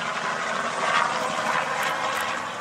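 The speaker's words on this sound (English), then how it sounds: "A constant buzzing of helicopters rescuing still stranded residents from their mountain homes" Helicopters rescuing stranded residents from mountain homes after Hurricane Helene make a constant, steady rotor-and-engine drone overhead, a broad, even roar that neither swells nor fades, with no voices.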